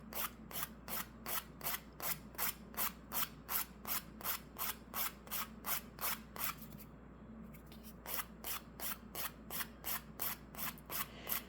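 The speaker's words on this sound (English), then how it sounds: "I'm going to use a 180 grit file" Steady, evenly spaced rasping strokes of a 180 grit file beveling the edges of a copper washer for a ring, close and fairly quiet, with a short pause midway before the strokes resume.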